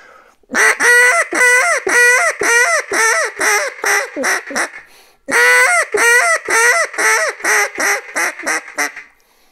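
A duck call blown in a Cajun squeal, rapid, harsh squealing bursts without a quack, two runs of about ten quick notes each, loud and close with a brief pause between.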